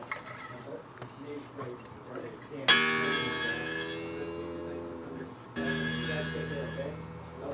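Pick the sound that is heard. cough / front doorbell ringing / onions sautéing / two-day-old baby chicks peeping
front doorbell ringing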